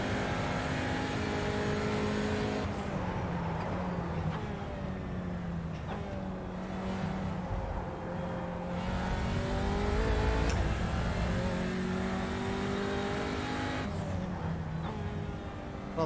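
Audi TCR race car engine lapping Road America, a steady close-miked drone with repeated rising revs through the gears and brief dips at shifts, continuous and fairly loud throughout.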